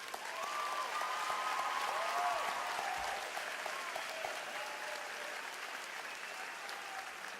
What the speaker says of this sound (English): giving them one more round of applause